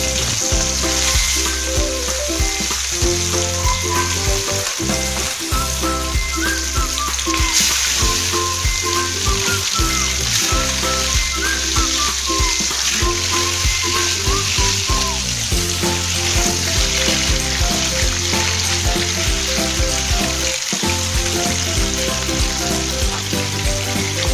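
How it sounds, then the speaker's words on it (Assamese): Pieces of rohu fish fry in hot oil in a wok, giving a loud, steady sizzle and crackle that runs without a break. "এতিয়া আমি মাছখিনি ফ্ৰাই কৰি লওঁ"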